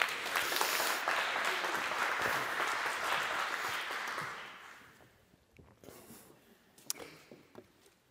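An audience at a conference event applauds to welcome the founder and co-manager of Chien Noir onto the stage: dense, sustained clapping that thins out and fades after about five seconds, leaving a few scattered claps and room noise.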